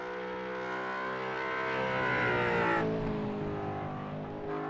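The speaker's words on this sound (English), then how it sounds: "that Mustang sounds good" A Ford Mustang GT race car at Donington Park National circuit roars past with its engine, the note rising as it accelerates and then dropping sharply as it goes by, loud and steady with no talk over it.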